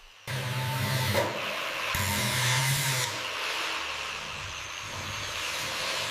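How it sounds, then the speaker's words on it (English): A high-speed grinder works over the aluminum body shell of a Jaguar XKSS, stripping old paint and oxidation, giving a loud, steady broadband whine with shifts in pitch and load as it moves across the metal, alone without talk. "We use a high-speed grinder here to prepare the shell for the restoration process."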